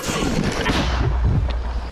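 A heavy, booming blast with rumbling low-end energy fills the clip as a Ukrainian brigade's mortar fires nearby, near Robotyne, followed by a rolling echo.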